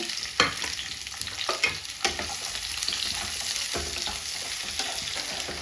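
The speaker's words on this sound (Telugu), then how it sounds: "క్యాప్సికము ఆనియన్స్ కట్ చేసి పెట్టుకున్నాం కదా ఇవన్నీ వేయించుకున్నాము" Capsicum and onions fry in hot oil for a restaurant-style white sauce pasta, giving a steady close sizzle broken by several sharp spatula scrapes and knocks against the pan, with no talking.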